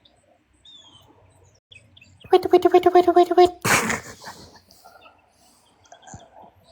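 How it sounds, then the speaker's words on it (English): Birds chirp outside a slightly open window, with faint calls early on and a burst of quick repeated notes in the middle, mixed with soft nearby voices. "Oh yeah, you hear birds. They're out here."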